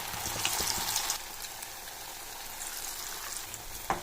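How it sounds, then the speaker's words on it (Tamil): Snack balls deep-frying in oil in a kadai over a medium flame, giving a steady soft bubbling hiss with a brief louder crackle at the start and the end. "கடாயில் எண்ணெய் சேர்த்துட்டு மிதமான தீயில் பொரிச்சிடுங்க."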